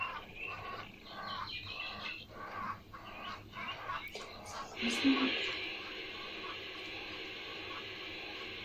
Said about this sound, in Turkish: Şu an kuş sesleri geliyor.